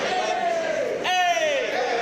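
Wrestling crowd at a DPW pro wrestling event roaring and cheering continuously, a dense wash of massed voices with whistles cutting through; loud and near, with a commentator's voice over the top.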